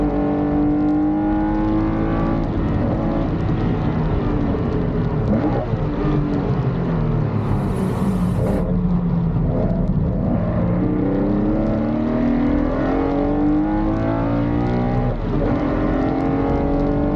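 Porsche race cars, including a 993, roar away together at a race start at Snetterton circuit, a dense loud engine wall with rising pitch as the pack accelerates, no voices.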